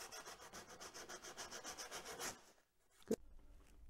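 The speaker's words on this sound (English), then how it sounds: "now I'm going to get rid of the little tiny hard edge right there with a piece of sandpaper" Sandpaper rubbed back and forth over a small hard edge on a wooden bow locker cover for a Catalina 22 sailboat, a steady close scratching run of quick strokes that stops abruptly, followed by quiet and one sharp knock.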